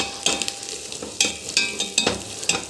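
Ginger, garlic, green chillies and fenugreek fry with turmeric in a pan for a mutton dish, a steady close sizzle broken by several stirring scrapes at an uneven pace, with no talking.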